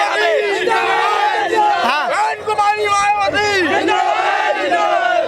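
A dense political rally crowd during an Uttar Pradesh election campaign shouts and cheers without a break, many voices layered into loud, continuous chanting and roaring that stays close and full throughout.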